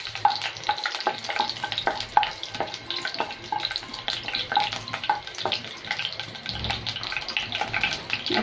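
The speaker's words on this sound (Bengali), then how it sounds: "তার আগে দিয়ে দিচ্ছি তেজপাতা, মশলাটা দিয়ে দিচ্ছি, একটু ভেজে নিব" Bay leaves and spices frying in a pan for an egg-white korma, a steady close sizzle with occasional stirring scrapes and faint clinks throughout, no talking.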